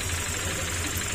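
Idling engine of a Honda Click 150 scooter resting on a metal stand, with a rapid ticking or knocking under a steady mid-pitched hum, close and continuous.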